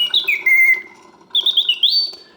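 A vintage Karl Griesbaum mechanical singing bird in a cage gives two bursts of bright, warbling whistled chirps that trill and slide, loud and close, separated by a short pause.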